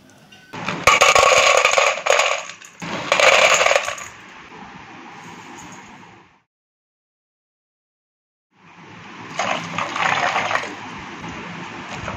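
Soybean chunks are swished by hand through salted water in a bowl, making bursts of sloshing, rattling splashes. There is a quiet gap, then more washing. No one talks.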